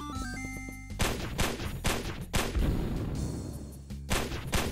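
Repeated gunfire in a Squid Game browser video game, a series of loud shots with short gaps between them after a brief musical opening, with no voices.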